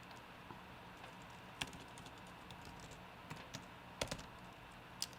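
Someone types code for a Minecraft Python lesson on a computer keyboard, giving soft, irregular key clicks with a few sharper, louder taps, close and quiet with no talking.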